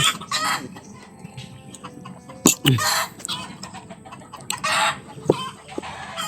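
A rooster and chickens cluck in short, scattered bursts, with a brief crow-like call near the middle, over a busy outdoor background with occasional sharp knocks.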